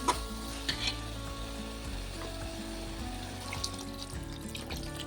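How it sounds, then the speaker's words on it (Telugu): Water hits a hot pan of spinach and soaked soya chunk curry, which crackles and sizzles loudly. The frying hiss runs throughout, with small pops and stirring clinks near the start and again midway. "కొన్ని వాటర్ వేసుకుందాం."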